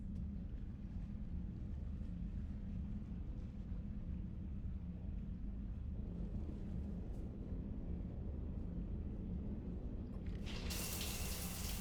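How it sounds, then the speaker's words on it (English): Shower water running steadily in Mass Effect Legendary Edition, a continuous broadband rush with low rumble that holds evenly throughout, brightening sharply near the end. "I figured you'd be more interested in a shower."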